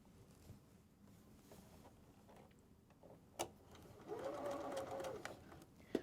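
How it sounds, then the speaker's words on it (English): A sewing machine stitches around the edge of quilted fabric pieces for a wall calendar, running quietly for a short stretch after a few faint clicks, then stopping with a sharp tap. "Sew all the way around, leaving a hole on the bottom for turning."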